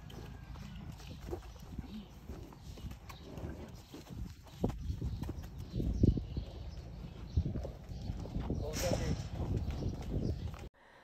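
Hooves of a Belgian draft horse clop unevenly on a trailer floor and ramp as the horse steps off, with heavy thuds and scuffs over steady outdoor background noise.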